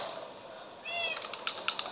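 A cat in a video game gives a short, high meow near the middle, followed by a few sharp clicking taps, all fairly quiet against a faint steady background hiss.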